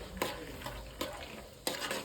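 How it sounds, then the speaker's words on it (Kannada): Peanuts roasting until crisp in a pan, stirred in three sharp scraping bursts over a low steady background, close and moderately loud. "ಕಡಲೆ ಬೀಜನ ಗರಿಯಾಗಿ ಹುರ್ಕೊಂಡು ತೆಗೆದಿಟ್ಕೊಳ್ಳೋಣ"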